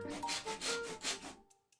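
Rough back-and-forth sawing through a coconut shell with several rasping strokes, close up, ending in a few faint scrapes.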